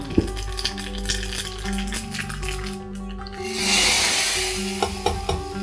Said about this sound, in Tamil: இது தேங்காய் எண்ணெயில் தாளிச்சு கொட்டினேன்னா ரொம்ப ஜோராக இருக்கும்.